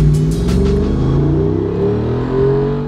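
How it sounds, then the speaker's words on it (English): A 2023 Jeep Wrangler Rubicon 392 with a 392 cubic inch, 470 horsepower V8 Hemi rumbles loudly and close by, a deep, throaty engine note that swells and eases slightly as it revs. "This Wrangler Rubicon is powered by a 392 cubic inch V8 Hemi engine, pumping out 470 horsepower"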